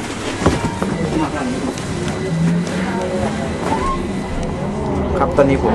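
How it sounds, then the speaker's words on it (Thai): Inside an Istanbul tram riding along its tracks, a steady rumbling hum of the carriage runs throughout with faint rattles and squeals, under background voices and chatter. "ตอนนี้ผมก็อยู่ภายในรถไฟนะฮะรถแทรม"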